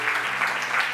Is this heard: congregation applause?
yes